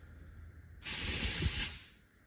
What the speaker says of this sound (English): that's not supposed to let air out like that.